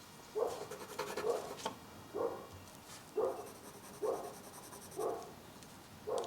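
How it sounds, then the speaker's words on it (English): A neighbour's dog barks repeatedly at a distance, six or so evenly spaced muffled woofs about a second apart, over faint scratching of a colour pencil on paper. "It's my neighbour's dog saying hello."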